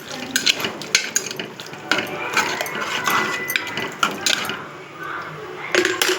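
Tomato sambar stirred in a cooking pot with water added, a spoon scraping and clinking against the metal in steady, close strokes with wet sloshing throughout.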